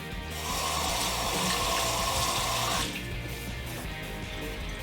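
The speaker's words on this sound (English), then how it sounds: "I rinse off the food" Tap water runs into a kitchen sink as food is rinsed off a dish, a loud, close, steady rush that shifts and eases slightly partway through.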